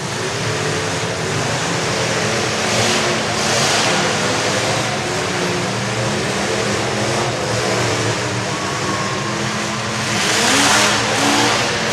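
A demolition derby car engine is held on the throttle, roaring steadily and loudly with rising revs and a rough mid-range drone, mixed with other engines and track noise on a Corinth, Mississippi derby track.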